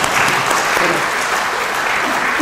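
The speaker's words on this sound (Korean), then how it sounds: "우리 서로 위로하는 박수를 한번 쳐" A large gathered audience claps together in a brief, loud, continuous burst of applause, dense and steady throughout.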